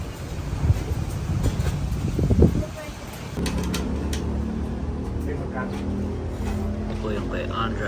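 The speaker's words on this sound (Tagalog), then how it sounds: "Oh, lakas ng hangin." Strong wind buffets the microphone outdoors near a roadside eatery in Cavite, a steady loud rush with gusts that peak and drop, while people talk underneath.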